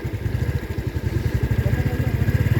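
Motorcycles passing on a road in Bener Meriah, Aceh, after rain and strong wind: a loud, close engine drone with a pulsing rhythm throughout.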